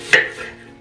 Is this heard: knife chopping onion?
yes